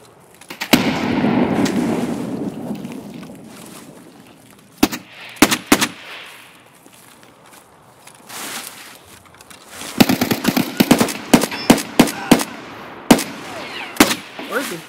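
Bursts of automatic AK rifle fire in a video game, several rapid sprays and single shots spread across the clip, loud and close, with quiet gaps between volleys.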